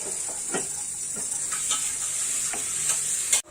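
Motichoor laddu mixture roasting dry in a pan, a steady faint hiss with rhythmic scraping stirs of a spoon, ending in a short knock.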